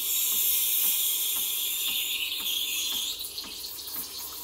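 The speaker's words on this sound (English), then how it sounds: "So after you turn it on by about 15 seconds, it will start steaming." Steam wand on a Breville Barista Express BES870 espresso machine steaming milk in a jug, a steady loud high hiss running throughout with faint rhythmic clicks.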